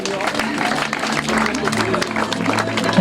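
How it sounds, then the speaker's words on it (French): Applause from a crowd gathered before the Léa Trail 2024 evening trail run in Bergouey, a steady wash of clapping under someone talking. "vous pouvez m'applaudir un petit peu plus"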